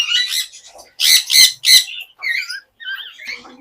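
A breeder pair of pet birds giving harsh, close squawks and chirps in short bursts, several loud calls grouped together with brief gaps between them.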